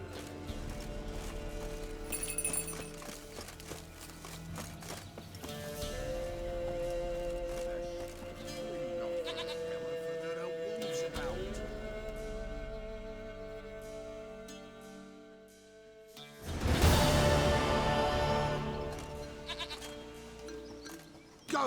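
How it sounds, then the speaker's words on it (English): A goat in the video game The Witcher 3: Wild Hunt bleats a few times against soft game music, followed by a louder burst of outdoor noise near the end. "Goat of mine, dearest, sweetest goat."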